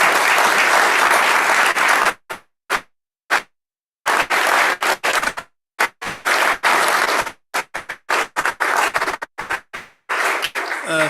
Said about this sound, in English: Let's start with a round of applause.